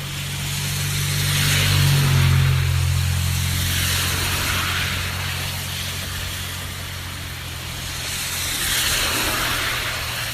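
Cars pass by on a road in a series of swelling and fading whooshes, loud and close, with a low engine hum underneath.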